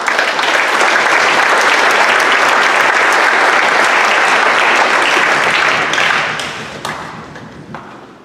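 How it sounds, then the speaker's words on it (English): A school awards audience at Lyman High School claps in a dense, loud ovation that holds steady and then trails off into a few scattered claps and taps near the end. "So give them one more round of applause."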